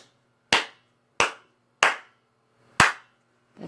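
Four sharp, separate hand claps in a studio room being checked for acoustics. Each clap is loud and close and trails off with a short ringing decay, with a fifth clap starting at the very end.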